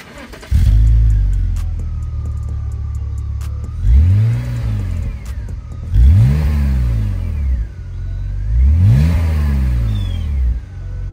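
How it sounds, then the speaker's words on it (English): A BMW E46 with a loud exhaust modified by a butterfly valve mod idles, then revs up sharply several times, each rev rising and falling back to a deep rumble. "This is the sound you can expect from the exhaust."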